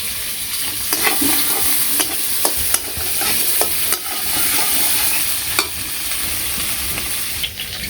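Potatoes fry in a pan in a village kitchen, giving a steady close sizzle. Scraping stirs and occasional clinks of a utensil against the pan break in now and then, with no talk.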